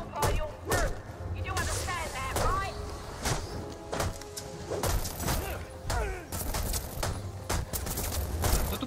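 Gunfire rattles in repeated bursts in the video game Batman Arkham Origins, loud and layered with thuds and impacts. Game voices run underneath throughout.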